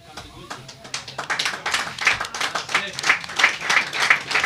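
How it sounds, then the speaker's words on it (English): Applause for the winner of a lawn bowls singles final, a player from the Goodwood Bowling Club. Loose clapping from a small crowd builds steadily and grows louder over several seconds, with scattered talk mixed in beneath the claps. "Well-deserved applause for Stefan Kotze from Goodwood Bowling Club"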